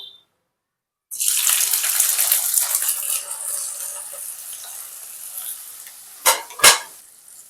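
About 250 grams of small cleaned shrimp, seasoned with salt and turmeric, hit hot oil in a pan with an abrupt loud sizzle that slowly settles. Two sharp clinks of a utensil sound near the end, and no one speaks.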